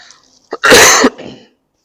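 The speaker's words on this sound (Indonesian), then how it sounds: "Mohon maaf ya agak batuk." A single harsh cough, loud and close, with a brief catch of breath just before it and a little rasp trailing off afterward.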